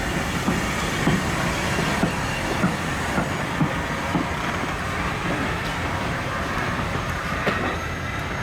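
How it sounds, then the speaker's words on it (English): Steam locomotive 5043 Earl of Mount Edgcumbe slowly backs empty coaching stock into platform 4 at Salisbury in rain, a steady rail rumble with irregular wheel clanks and knocks over a constant wash of noise. "5043 Earl of Mount Edgecombe backs its empty coaching stock into the Salisbury platform 4"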